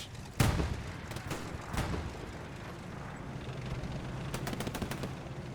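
A Churchill tank in Hell Let Loose fires a shot on a desert battlefield, a sharp close blast with a ringing tail, then scattered distant gunfire and further cracks against steady wind-like background noise.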